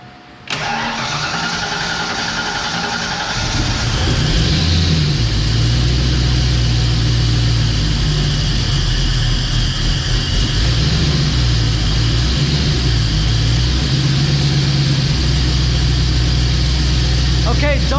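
A Ford Mustang Foxbody, back running after years off the road, cranks briefly and catches, then settles into a loud, steady idle close by with slight surges in revs.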